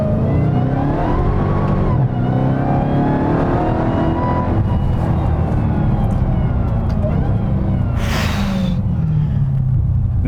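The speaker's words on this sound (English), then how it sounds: "here's what happens if I'm in second and I just stab the throttle" A powerful 797-hp Dodge Charger Hellcat engine roars loudly and continuously, pitch climbing as it accelerates hard in second gear through the revs, heard from inside with dense low rumble.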